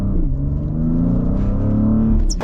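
A 2023 Mercedes-AMG GLC43 accelerates hard: a deep, close engine rumble whose droning tone climbs steadily over a couple of seconds, with no one talking.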